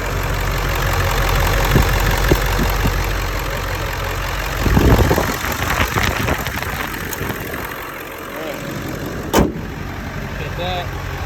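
A 2001 Ford F-350 with the 7.3L diesel engine idles close by with a steady, low, rumbling clatter that runs throughout. A voice is heard at times over it, along with a few clunks.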